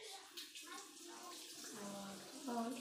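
Hands are washed under a running tap to get sticky glue off, a soft splashing water flow heard close beside a speaking voice.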